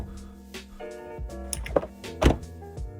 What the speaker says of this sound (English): Connor here is going to demonstrate us what the new car doors sound like